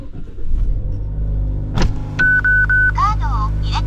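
A Mazda 3 Fastback gasoline engine holds a steady, loud low rumble at high idle just after a cold start, with a few electronic beeps over it near the end.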